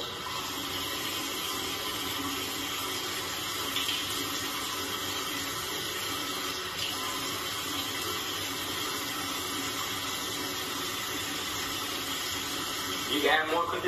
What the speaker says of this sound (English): So I have my sink right here. And all I'm gonna do is just keep adding water.